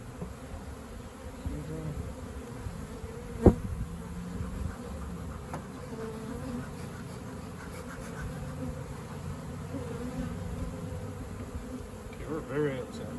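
Bees buzz in a dense, steady hum while a swarm trap is transferred, with a sharp knock and a brief spoken name breaking through.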